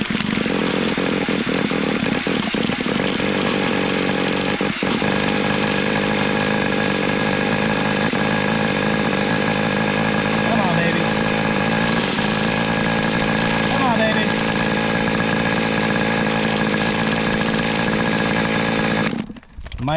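Vintage 1985 Kyosho Integra RC car nitro engine starting and running, a loud, close, high-pitched buzzing whine that holds steady for nearly twenty seconds before cutting off abruptly at the end.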